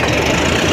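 A tractor engine runs steadily while hauling out another tractor stuck in the ground, a continuous loud rumbling drone with no pauses over a very short stretch.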